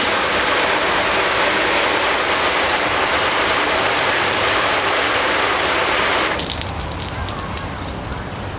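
A steady, loud hiss of water spraying onto a car's coated paint, continuous and close, easing slightly near the end as the spray shifts.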